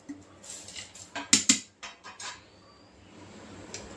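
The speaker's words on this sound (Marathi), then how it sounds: "आणि आपले शेंगदाणे, कढीपत्ता, डाळवा हे सगळं मिक्स करायचं." Peanuts, curry leaves and roasted gram are stirred together for poha chivda, giving a handful of sharp clattering scrapes and taps against a metal pan, close and clear, fading into quiet rustling.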